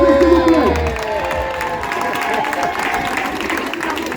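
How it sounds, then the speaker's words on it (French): A crowd applauds and cheers at a charity children's running challenge outdoors, sustained dense clapping with raised voices mixed in, loud and continuous throughout. "Je vais vous demander de les applaudir, s'il vous plaît."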